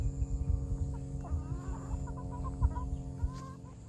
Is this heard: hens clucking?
yes